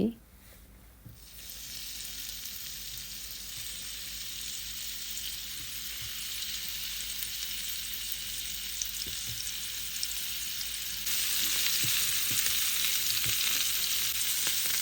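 Chicken shashlik pieces frying in hot oil give a continuous, even sizzle that grows a little louder partway through, with soft stirring noises and no talking.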